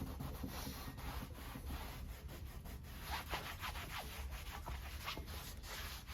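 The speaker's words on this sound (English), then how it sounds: "you can just rub them out with the acetone" Steady rubbing of a cloth with acetone over a vintage York weight plate, a continuous close scuffing and wiping sound with a faint high whine running throughout.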